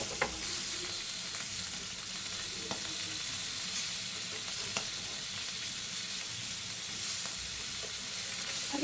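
Pieces of hilsa fish fry in a pan with a continuous, even sizzle, fairly quiet and close, and a few faint clicks of handling scattered through.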